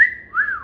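A person's voice imitates a catcall whistle: a short, loud two-part whistle, a high steady tone followed by a brief rise and fall, heard alone.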